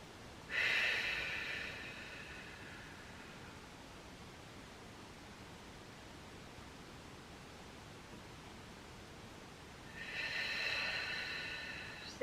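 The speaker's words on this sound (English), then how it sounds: "So just continuing here, going for those deep belly breaths." Two deep belly breaths during a Pilates full-body stretch on a mat, long airy exhales through the mouth near the mic, one near the start and one near the end, separated by quiet hiss.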